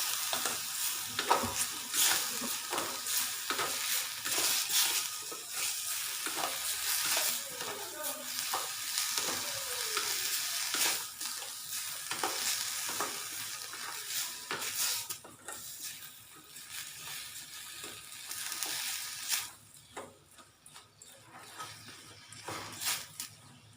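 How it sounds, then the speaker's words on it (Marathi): Coconut, sugar and milk powder barfi mixture stirred and sautéed in a pan, a steady soft sizzle with repeated scraping strokes of a spoon against the metal, close and continuous throughout. "हे असं चांगलं परतून घ्यायचं जोपर्यंत घट्ट होत नाही तोपर्यंत"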